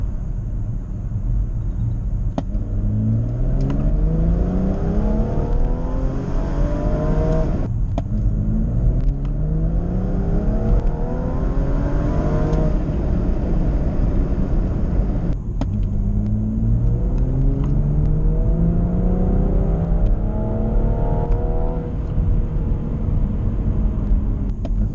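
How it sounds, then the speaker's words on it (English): A BMW M135i with the N55 turbocharged engine pulls hard through second and third gear, its loud engine note climbing in pitch over and over in three long sweeps, with each gear change breaking the rise. "So I'm going to try a second gear pull first, and then I'm going to do a third gear."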